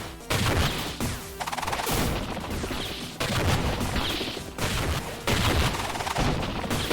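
Grenade weapon fire in the video game Iconoclasts, during a superboss fight: repeated loud blasts and crashing bursts in quick clusters with brief gaps between volleys, no talk.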